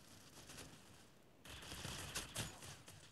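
Bursts of rapid video-game gunfire crackle over a steady background hiss, growing louder partway through with a few sharper shots near the end.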